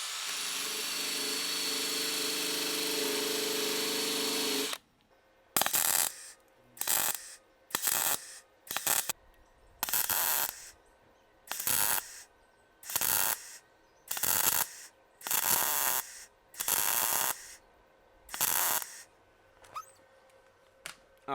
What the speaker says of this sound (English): I'm just going to run a bead of weld up here.